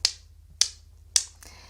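Falling rocks clacking against each other, imitated by a person with three sharp, close snaps spaced about half a second apart and a softer fourth tap at the end.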